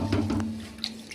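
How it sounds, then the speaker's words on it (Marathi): Water splashing and running as finely chopped shepu (dill) greens are rinsed in a vessel, a short burst of sloshing and trickling with a faint background hum, close and moderately loud. "ही बघा कापून अशी बारीक चिरून धुवून घ्यायची."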